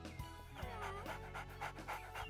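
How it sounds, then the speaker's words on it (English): Little dog panting quickly and steadily in a Winx Club animated film, close and fairly loud, with a faint whimpering tone in the breaths. "looks like that little dog really likes you."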